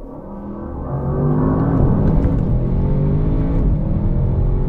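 A 2019 Audi RS6 Avant's 600 hp V8 engine drones loudly and steadily, its pitch climbing gradually as it accelerates through an eight-speed automatic, close and continuous.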